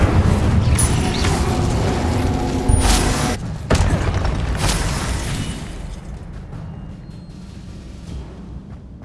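Incendio fire spell cast in the Hogwarts Legacy video game, a loud booming burst of fiery energy with crackling pops and a rumbling tail that fades over several seconds.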